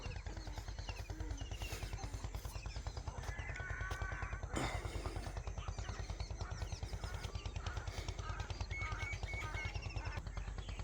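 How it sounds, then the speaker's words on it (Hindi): Outdoor morning birdsong in a village with scattered chirps and calls, including a few harsher caw-like cries, over a steady low rumbling hum throughout. "परिंदों के चहचहाने की आवाज़ें सुने।"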